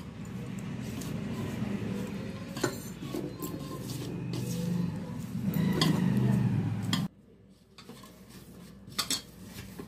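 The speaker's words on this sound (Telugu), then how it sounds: "ఇప్పుడు వాటర్ వేసుకొని చక్కగా పూరి పిండిలా కలిపేసుకోవాలి." Poori dough for layered poori is mixed by hand with water in a bowl, giving scraping, clinking bowl sounds and soft sticky squelches for about seven seconds before it drops to quieter, sparse taps.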